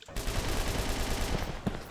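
Sustained automatic gunfire from the online shooter Red Crucible 2 rattles steadily for about two seconds after a sharp onset, moderately loud, with a few heavier thumps near the end.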